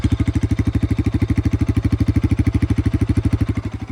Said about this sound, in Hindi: पहले आइडल पे सुनाता हूँ, तो ये है कुछ आइडल साउंड।